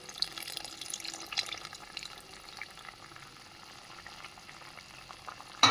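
Tamarind juice is poured into a simmering drumstick curry, giving a soft, continuous liquid bubbling and sizzle that stays faint and steady, with no voice.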